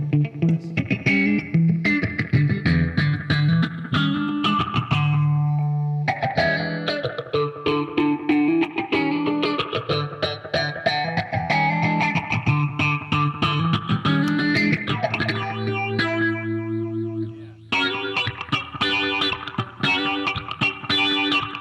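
A distorted, fuzzed electric guitar runs through a Warm Audio Jet Phaser pedal, playing a busy, continuous riff with a swirling, sweeping wash over the tone that gives it a vowel-like quality, loud and unbroken.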